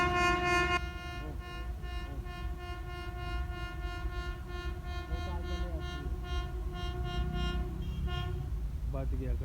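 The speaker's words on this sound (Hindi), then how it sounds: "रेलगाड़ी आ रही है दूर से और यहाँ से गुजरेगी" Train passing by near Malakwal, a loud sustained horn blast over the heavy rolling rumble of wagons on the rails, close and continuous throughout.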